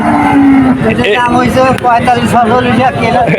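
A loud, close moo from a young calf at a cattle market rises and wavers, with people talking at the same time.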